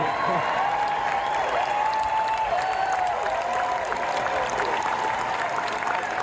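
Rally crowd in Glendale, Arizona applauding Robert Kennedy Jr. at a Trump 2024 event: dense, steady applause and crowd noise filling the whole stretch, with a voice running underneath the roar.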